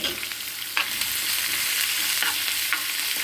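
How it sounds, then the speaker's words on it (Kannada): Garlic and ginger fry in ghee with a constant bright sizzle, broken by a few short scrapes of stirring in the pan. "ಇದು ಕೂಡ ಚಂದವಾಗಿ ಫ್ರೈ ಆಗುತ್ತೆ"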